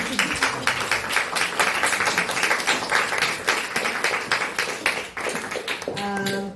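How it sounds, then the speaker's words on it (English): An audience at a queer Balkan literary event claps in dense broadband applause, then the clapping thins near the end as a sustained tonal sound enters. "Can we have an applause for the audience?"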